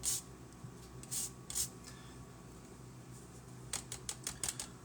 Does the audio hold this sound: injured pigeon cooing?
no